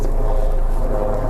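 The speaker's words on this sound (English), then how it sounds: "Sorry about the noise of the airplane" A steady, loud low-pitched engine drone with a broad rumble, holding constant throughout without pauses, like a plane passing overhead.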